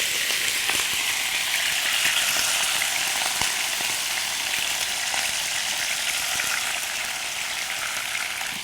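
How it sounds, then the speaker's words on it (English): Beef fries in oil in a pan with a dense, continuous sizzle, close and steady, with small crackles and pops scattered throughout. "So you just fry the beef little bit"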